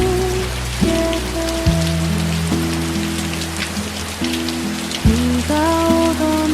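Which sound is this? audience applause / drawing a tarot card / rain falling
rain falling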